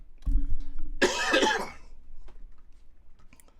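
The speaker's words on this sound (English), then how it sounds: "Gotta cough up a lung" A single man's cough burst followed by throat noise, close to the mic and loud, then near silence with faint room sounds.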